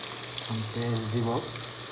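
Onions frying in a pan for an egg curry, a brief steady sizzle with a short tonal whine in the middle, no words spoken.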